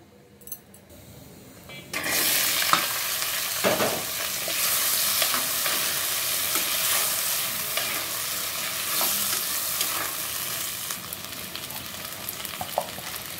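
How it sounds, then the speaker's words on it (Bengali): Cumin seeds hitting hot mustard-style oil left from frying fish, bursting into a loud, close sizzle that starts abruptly and crackles on steadily, with scattered pops and a few utensil clinks. "মাছ ভাজা তেলে দিয়ে দিলাম জিরা ফোড়ন।"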